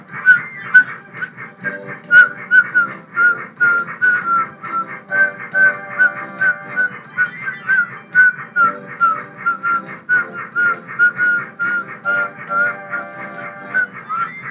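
A person whistles a melody continuously, bright and close, with a low rumbling backdrop underneath and no talking, during Paper Mario gameplay.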